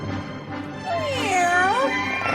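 A cat in a studio lets out a drawn-out, wavering meow that rises and falls over about a second, heard alone against a faint room hum.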